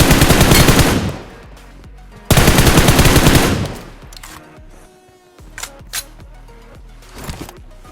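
Heavy bursts of gunfire in BGMI fusion mode, two long loud automatic volleys followed by scattered single shots and mechanical clicks, with an AWM sniper among the weapons.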